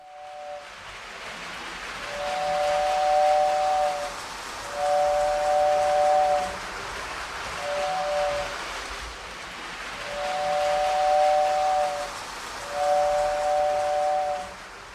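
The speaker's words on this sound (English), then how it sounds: "the sound of a toy train clickety-clacking over the track, and the sound of an old-fashioned toy train steam whistle" Old-fashioned Lionel standard gauge toy train sounding its steam whistle in a series of sustained two-tone blasts, roughly five toots spaced a second or two apart, over a soft steady rolling rumble of the train on the track.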